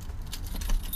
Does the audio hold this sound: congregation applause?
no